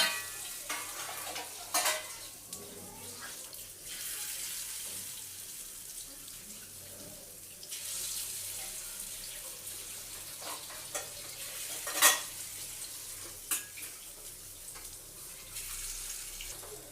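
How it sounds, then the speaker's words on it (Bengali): Steady, crackling sizzle of vegetable pakoras in lentil batter frying in hot oil in a wok, with a few sharper pops and spatters rising over the hiss. "কড়াইতে তেল বসানো হয়ে গেছে, দিয়ে দিচ্ছি।"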